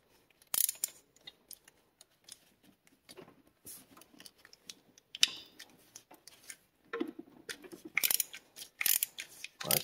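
A ratchet clicks in short bursts of rapid ticking as a part is loosened on a Mopar car, with scattered clunks of metal handling between the bursts and no talk over it.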